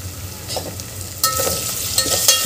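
Tomatoes and spices, including coriander powder, fry in a pan for masale bhat, giving a steady sizzle with stirring scrapes that grow louder midway, close and without talk.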